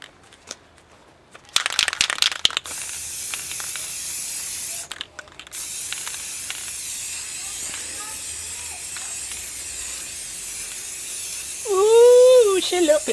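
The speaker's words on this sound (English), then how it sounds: "I'll hit it with a coat of regular old rattle can clear acrylic" A rattle can sprays clear acrylic coat in steady hissing bursts, a short spurt early, then a longer continuous spray, with a brief voice near the end.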